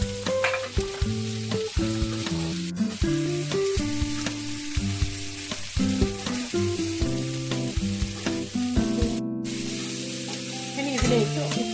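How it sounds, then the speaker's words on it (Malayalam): Sliced onions frying in a pan for a Kerala-style chicken liver roast: a continuous sizzle with occasional stirring scrapes, close and fairly loud, under steady background music with no speech. "ഇനി നമുക്കിതിലേക്ക് സവാള ആഡ് ചെയ്യാം"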